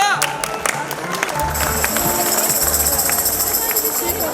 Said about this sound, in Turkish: Alkış İzmir'e!